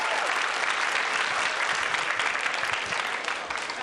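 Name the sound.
crowd applauding at pool championship final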